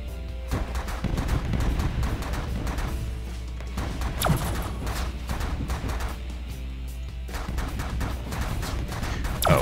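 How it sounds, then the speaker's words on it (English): Energy blaster firing repeatedly in the space strategy game The Last Federation, a dense, continuous barrage of sharp gunfire-like shots and crashes, loud and rapid with brief pauses, no talking. "let us pull out the energy blaster once more and open fire on you at max weapon systems"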